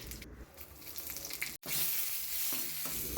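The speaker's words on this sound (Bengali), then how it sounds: "এবার ফোড়ন দিতে হবে তেলের মধ্যে কালো সর্ষে শুকনো লঙ্কা আর কারি পাতা" Black mustard seeds, dried chillies and curry leaves sizzling in hot oil, a steady close frying hiss that briefly drops out and then returns louder.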